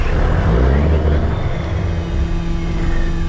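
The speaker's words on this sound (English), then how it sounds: "that throttle arm linkage was stuck, but it fired right up" A K100 BC 350 engine running after starting up with a freed throttle arm linkage, a steady loud low rumble with a faint whir, close by and alone.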